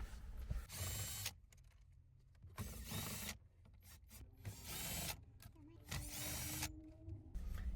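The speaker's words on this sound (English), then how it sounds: "And we're going to remove some 10mm bolts." A ratchet or power tool backs out 10mm bolts from a Lexus IS car dashboard in several loud bursts of whirring and clicking, separated by quieter pauses with small mechanical handling noises.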